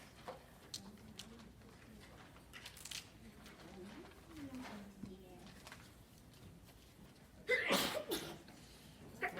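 A single sneeze bursts out near the end of a quiet classroom, following faint background murmurs and shuffling.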